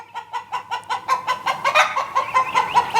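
Chickens cluck in a quick, regular series of short calls that grow a little louder and busier over a few seconds, close by with no talk.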